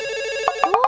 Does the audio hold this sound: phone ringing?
yes